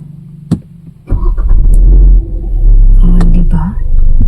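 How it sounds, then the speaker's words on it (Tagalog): A car engine cranks and catches after a new battery is installed, turning over quickly into a loud, close, steady idle rumble, with a brief whispered voice near the start. "syempre papaandarin natin yung ating sasakyan kung mabilis lang siya"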